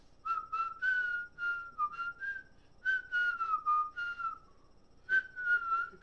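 A person whistles a melody in three bright phrases of sustained and bending notes, with short pauses between them, close and clear over a quiet background.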